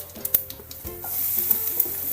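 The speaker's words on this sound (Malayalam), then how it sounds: "കടുക് പൊട്ടി വരുന്നുണ്ട്" Mustard seeds crackle and pop in hot oil while curry leaves go in, a close, busy sizzle with sharp spluttering bursts, cooked for a Kerala vazhachundu thoran.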